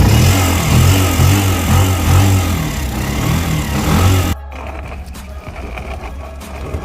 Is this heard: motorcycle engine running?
yes